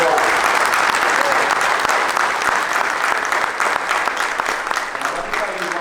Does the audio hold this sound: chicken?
no